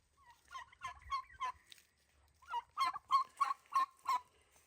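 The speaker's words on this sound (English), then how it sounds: "Hey, turkeys." Farm turkeys gobble in two rapid rattling volleys, the first of four or five calls and the second of about six louder, nearer ones, separated by a short pause.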